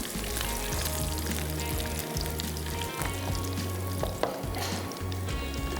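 Curry leaves frying in a pan, giving a dense, continuous crackling sizzle with occasional pops and a low steady hum underneath, close and loud throughout, no talk.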